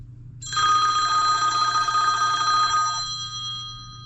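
An incoming call rings out of an Anker PowerConf Bluetooth speakerphone, one sustained electronic bell-like trill lasting about two and a half seconds then fading, loud and close over a low steady hum.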